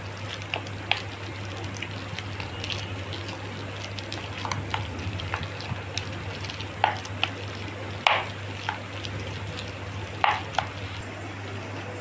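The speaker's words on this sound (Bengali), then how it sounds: "তা চলো এটাকে ভালো করে এইভাবে আমি চটকিয়ে নেব" Palm fruit pulp being mashed and squeezed by hand for burnt palm cakes in banana leaf, giving soft wet squelching and sticky slapping sounds in an irregular rhythm, close up, with a steady low hum underneath and no talking.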